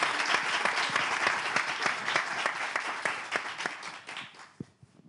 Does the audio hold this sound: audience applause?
yes